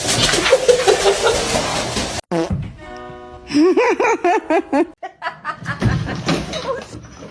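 Pet bird making chicken-like clucking and chortling calls, a series of short pitched bursts in the middle, with human laughter and talk before and after.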